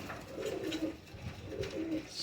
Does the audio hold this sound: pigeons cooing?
yes